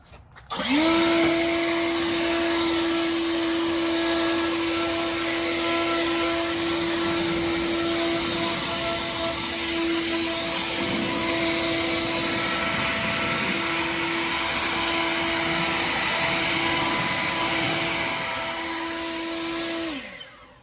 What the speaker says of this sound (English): We're gonna blow some of these leaves and see how good this blower is